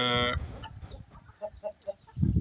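A black broody Aseel hen clucks nearby in short, soft bursts, with a louder drawn-out squawk at the start and some rustling at the end.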